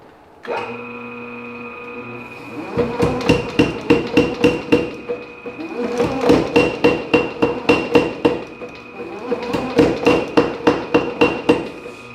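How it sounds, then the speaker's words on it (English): A blacksmith's power hammer forges hot metal in three bursts of rapid, loud, evenly spaced ringing blows over a steady machine hum, each run of strikes lasting a couple of seconds. "I'm going to do this on the power hammer because time with this heat is kind of limited"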